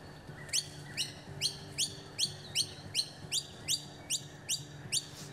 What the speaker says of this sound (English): So we've got some noisy miners feeding in these eucalypts, and they're just lurping.